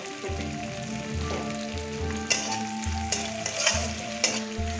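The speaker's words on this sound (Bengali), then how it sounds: "দেখুন এটা হালকা হালকা ভাজা হয়ে গেছে" Capsicum and onion fry in a pan with a steady close sizzle, broken by several soft stirring scrapes and clinks, and no talking.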